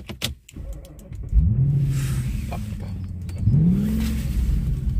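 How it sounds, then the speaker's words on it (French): An Audi S8 engine with a broken coolant hose idles with a steady low rumble, rising twice into brief revs before settling back, close and continuous. "Le petit son moteur les gars"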